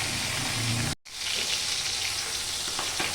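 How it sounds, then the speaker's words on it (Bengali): Loud, steady sizzling of snakehead fish heads frying in hot oil, briefly cut off after a second, then continuing with occasional stirring clinks. "এবার এটা একটু ভেজে নেব।"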